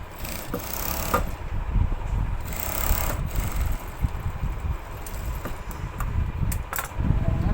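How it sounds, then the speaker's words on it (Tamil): A sewing machine stitches along a folded pant pocket edge in steady, close bursts of rapid mechanical whirring, with brief pauses and clicks between runs. "அந்த நாச்சிலேருந்து இப்படி நம்ம மடிச்சு தையல் போட்டுறேன்"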